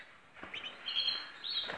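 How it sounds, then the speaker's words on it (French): A small bird chirps close by in short, high tweets and a brief trill over a soft background hush, with no one talking. "Vous voyez, regardez cet oiseau."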